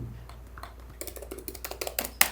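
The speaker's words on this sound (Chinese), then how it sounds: "这个触摸板基本上所有的地方都是可以按压的哈" A rapid series of sharp plastic clicks from a Lenovo Legion Y9000P laptop touchpad, close and crisp, growing more frequent and louder toward the end, with no talking.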